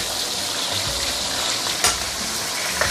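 Black pomfret frying in a pan over medium-high heat gives a steady, dense sizzle that holds throughout, with a couple of brief clattering pops standing out over the crackle.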